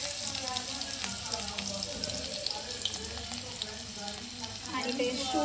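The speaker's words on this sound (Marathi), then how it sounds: "लसूण आहे हे थोडंसं मस्त फ्राय करायचं." Garlic cloves fry in a little hot oil in a pan, giving a steady, fairly loud sizzle with crackling and stirring scrapes that runs through the whole stretch without a break.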